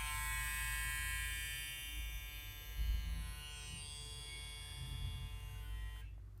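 A Mark hair clipper motor runs with a steady, close electric buzz and a bright whine that holds constant for several seconds before cutting off near the end.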